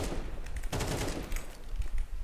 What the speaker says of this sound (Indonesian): terus kalian coba strafe, tembak per satu peluru, nanti coba di burst 3 peluru